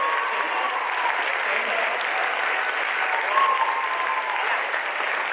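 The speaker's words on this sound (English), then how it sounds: "Can we please give your classmates another round of applause" A school audience applauds steadily through a high school Black History Month assembly, a dense continuous wash of many hands clapping at an even level with no voices standing out.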